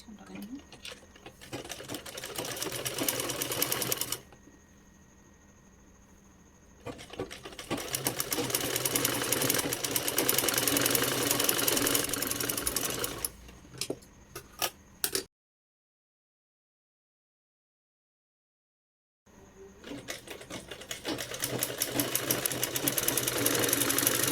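A sewing machine stitching a pillow cover runs in long steady bursts, stopping briefly between runs and pausing fully for a few seconds near the middle, with a speaking voice present.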